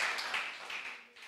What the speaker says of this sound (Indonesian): Tepuk tangan dulu buat Bella